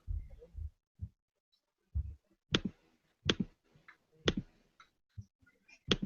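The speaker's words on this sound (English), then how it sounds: "we can hear the keyboard being pressed or something" Laptop keyboard keys pressed in a sparse, uneven series of sharp clicks and soft thuds, fairly close in an otherwise quiet room, with no speech.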